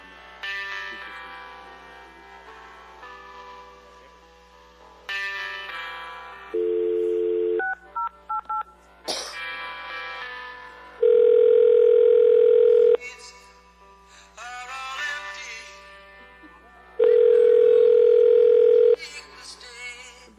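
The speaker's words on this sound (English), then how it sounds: "So we're ringing Jackson through." DTMF keypad tones and a steady dial tone play over a speakerphone on a phone call, with bursts of tones and long held dial-tone stretches between moments of talk.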